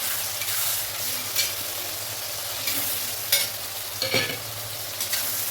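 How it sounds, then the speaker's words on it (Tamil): A large tomato sautés in a pan for brinjal fry, giving a soft, steady sizzle with occasional scraping stirs. "இப்போ நான் ஒரே ஒரு பெரிய தக்காளியாக எடுத்துருக்கேன், போட்டு வதக்கிறேன்"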